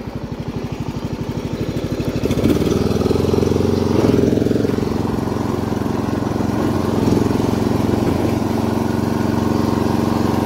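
A ride-on lawn mower engine runs steadily and close, with a throbbing rhythmic hum that rises as it revs up and then keeps a constant drone.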